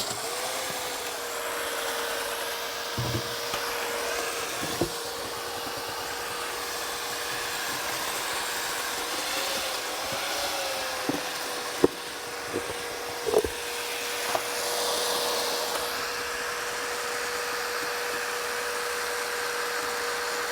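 An electric mixer stirs pool deck resurfacing mix in a steady, droning whine that holds through, broken by a few short knocks and clunks, with no talking.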